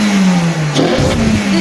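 Renault Clio 3 RS engine with a KTR induction kit revs briefly, its deep intake note dipping and then climbing again, loud and close with no talking.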